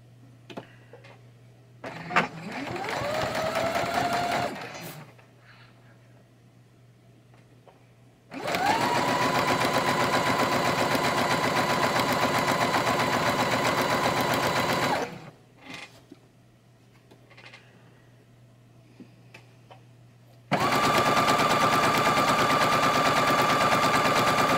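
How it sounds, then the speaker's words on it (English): Sewing machine with a piecing foot stitching fabric strips together along their edges, three loud steady bursts of rapid stitching separated by quiet pauses, no talking. "we're just going to sew those down"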